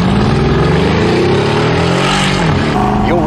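Twin-turbo 5.5-liter V8 in a Mercedes S63 AMG revving loudly and close, a steady rising engine drone with harmonics climbing in pitch, then a quick blip of revs near the end.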